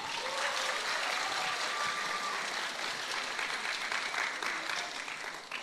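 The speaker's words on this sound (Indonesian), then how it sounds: "Mana tepuk tangannya?" An event audience applauds a contestant in a vote-by-applause round, a moderately distant wash of steady clapping with some faint voices mixed in, holding level and tapering slightly at the end.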